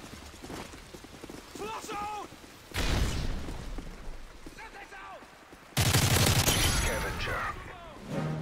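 Dense bursts of akimbo F9 submachine gun fire in a Call of Duty match crackle loudly in two long rapid volleys, with a voice talking during the quieter stretch before them.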